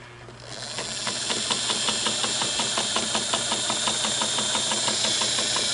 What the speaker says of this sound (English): I'm going to fold it over a little bit and sew this.